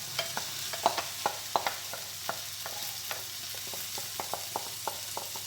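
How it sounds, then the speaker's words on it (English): Spinach sautés in a hot pan for a Caribbean vegan ackee dish, a soft steady sizzle punctuated by a string of light utensil taps and scrapes against the pan, close up with no voices. "I'm just gonna saute up this for roughly 2 minutes"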